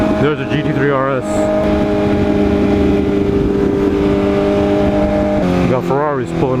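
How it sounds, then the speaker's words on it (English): Ferrari sports cars pull up with a steady, loud engine drone and revving, harmonic tones sweeping up and down near the start and again at the end, with people talking over it. "We got Ferraris pulling up."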